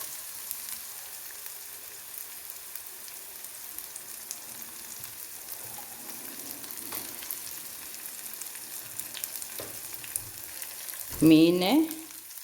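Bird's eye chilies fry in oil for a dried fish pickle, making a soft, steady sizzle with faint crackles and a short, louder burst near the end.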